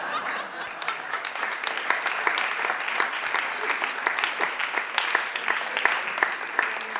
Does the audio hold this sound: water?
no